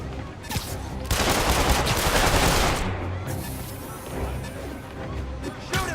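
Loud bursts of gunfire mixed with crashing impacts in Marvel's Spider-Man, peaking in a heavy barrage early on, then thinning into scattered shots and thuds with voices faintly underneath.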